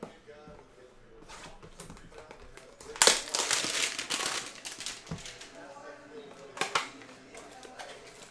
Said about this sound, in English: let's rip open this box